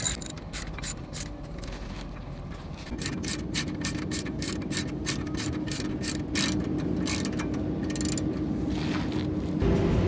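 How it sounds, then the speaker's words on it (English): A ratchet and 19mm socket tighten caliper bracket bolts during a wheel hub assembly replacement on a Nissan Juke, giving rapid, continuous clicking of the pawl over a low mechanical background, close and steady. "Tighten down those two bolts with a regular ratchet"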